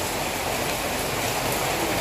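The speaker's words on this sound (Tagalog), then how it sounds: "Grabe ang ulan." Heavy rain pours steadily in a Filipino home's surroundings, a dense, continuous hiss of water with no breaks, fairly close and alone.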